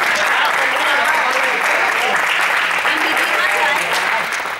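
A room of people applauds steadily, a loud continuous wash of clapping close by lasting the whole few seconds, with faint voices mixed underneath.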